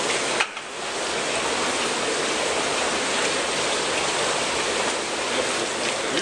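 Water welling up and flowing through a salmon egg incubator tray during chum egg-taking, a loud, steady, close rushing hiss with no pause, opening with a brief knock.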